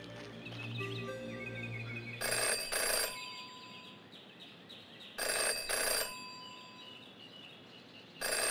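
A telephone rings in the Jenny LeClue video game, sounding in three separate bright bursts a few seconds apart, after a short stretch of soft game music.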